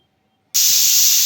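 A pressure cooker cooking split field beans for a Kannada-style tili saaru lets off its whistle, a sudden loud, steady hiss of escaping steam that bursts in after a moment of near silence and keeps going.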